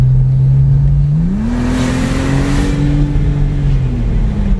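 Tuned 550hp Porsche 996 Turbo Cabriolet accelerating under turbo boost, a loud close engine drone climbing in pitch and holding a strong steady roar with a faint rushing intake sound behind it.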